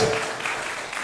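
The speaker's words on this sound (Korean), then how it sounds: "자, 박수 주세요." Brief congregation applause during a Christmas Sunday church service, a dense, steady patter of many hands clapping at moderate loudness.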